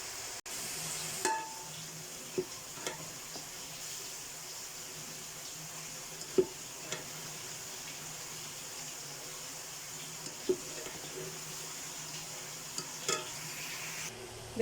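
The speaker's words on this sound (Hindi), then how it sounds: "चम्मच हिलाते जाएंगे, तमाम गोभी अंदर ऐड करते जाएंगे ताकि ये गल जाए।" Crushed cabbage cooking in half a cup of oil while a spoon stirs it, a soft, quiet sizzle broken by scattered sharp clicks and taps of metal against the pan, with no talking.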